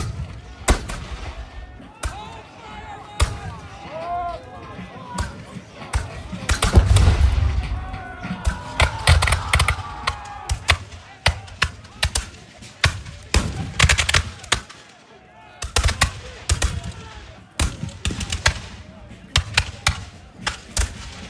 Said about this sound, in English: opposing gunfire. That's volley fire.